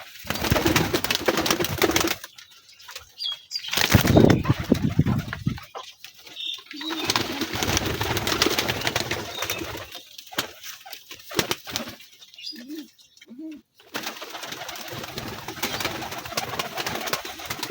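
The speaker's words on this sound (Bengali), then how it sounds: "ভাই রে ভাই, খুব চঞ্চল কবুতর।" A restless pigeon coos in low, throaty bursts and flaps its wings in sudden loud flurries while being handled up close, with short quiet gaps between the outbursts.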